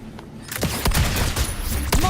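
Sharp gunshots in a video game, a few loud close cracks in quick succession over a busy background.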